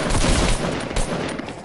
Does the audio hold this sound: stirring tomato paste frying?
no